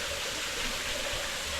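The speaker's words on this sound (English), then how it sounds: "And then there's the waterfall from earlier" Waterfall in the Philippine countryside, a steady rushing wash of falling water heard at close range with no voices.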